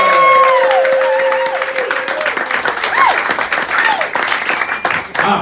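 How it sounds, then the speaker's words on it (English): A large audience at a stand-up comedy show in Tokyo applauds and cheers, dense clapping filling the space while whistles and shouts rise over it, slowly thinning toward the end. "Start the applause."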